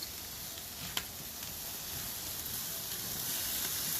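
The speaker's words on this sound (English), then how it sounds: "So now I just bathe these in lots of barbecue sauce." Oven-roasted ribs sizzle steadily as barbecue sauce is poured over them, a constant bright hiss with one small pop, no talking.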